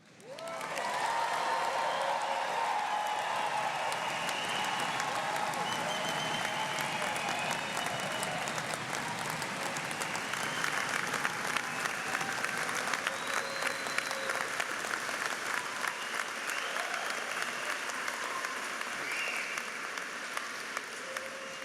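Thunderous applause fills a university convocation hall, a dense, sustained roar of clapping from a large crowd that holds steady throughout with faint cheering mixed in.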